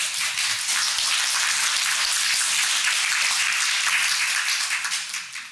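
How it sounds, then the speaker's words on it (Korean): Steady, dense applause from a seated audience at a Korean-Japanese suicide-prevention research seminar, a continuous wash of many hands clapping for several seconds before tapering slightly at the end. "박수 한번 부탁드릴까요?"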